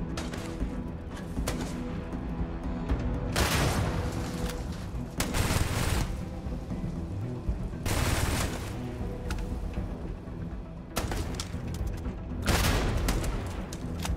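Shots from the player's fire-igniting gun in the video game Starfield come in a few separate heavy bursts of rapid gunfire, spaced several seconds apart over a steady game soundtrack.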